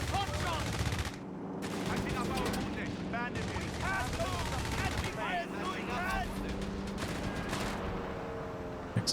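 Aircraft strafing run in the Company of Heroes 3 strategy game, with rapid bursts of machine-gun fire and explosive impacts layered under game sound effects, loud and continuous with short pauses between volleys.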